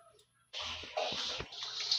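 Water pours steadily from close by onto salt and cleaned fish in a container, a splashing gush starting abruptly and continuing for over a second.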